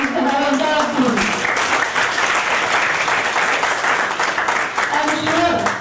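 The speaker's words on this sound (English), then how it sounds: "A big round of applause for Mani and our entire team." Loud sustained audience applause fills a hall at a college alumni golden jubilee gathering, steady dense clapping throughout, with a voice speaking over it near the start and end.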